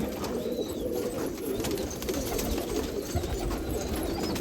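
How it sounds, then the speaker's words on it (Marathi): Old top racing pigeons with seven or eight races behind them, one wearing a gold ring, coo continuously in a loft on Subhash Road, Nashik Road. The low, throaty murmuring is close by and fairly steady throughout. "हे सगळं जुने टॉपचे कबूतर"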